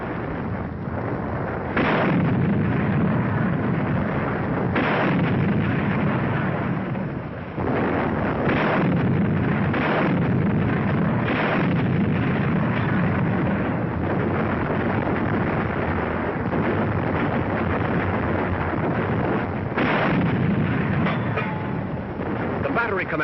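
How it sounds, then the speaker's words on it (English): British 25-pounder artillery guns firing in the desert, repeated heavy booms at irregular intervals over a dense, muffled low rumble. "British 25-pounders open up."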